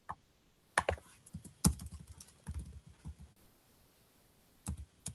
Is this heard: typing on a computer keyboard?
yes